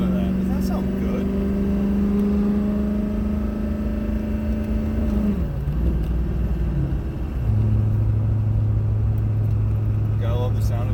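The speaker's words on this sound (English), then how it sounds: "Gotta love the sound of a Duramax. It's that 5-inch straight plate" A Duramax diesel truck engine with a 5-inch straight pipe exhaust idles close by with a deep, steady rumble. Its droning pitch dips partway through, then settles lower and holds.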